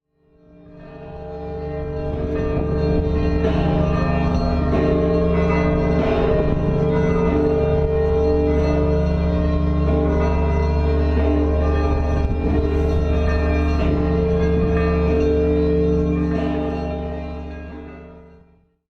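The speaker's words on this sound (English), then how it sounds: "While it's difficult to find a recording that does these bells justice, the pulsing rhythm is simply mesmerizing." A dense, sustained wash of pulsing, overlapping bell tones rings out steadily and loudly with no voices, the harmonics blending into a continuous shimmer before fading at the end.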